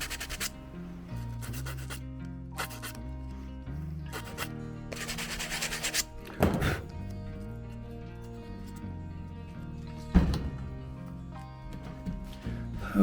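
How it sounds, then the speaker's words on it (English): Sandpaper scrubs a plastic gas can adapter in quick bursts of rough rubbing, close and fairly loud, broken by pauses and a couple of sharp knocks. "use some sandpaper and clean everything up real quick"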